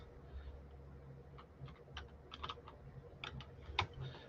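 Quiet, irregular keystrokes clatter on a computer keyboard in short bursts, close and soft, over a faint low hum.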